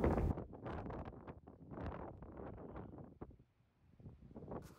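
Strong wind gusts buffet a microphone while filming atop a cathedral, rough rumbling blasts rising and falling in waves, loud at the start, easing briefly near the end before surging again.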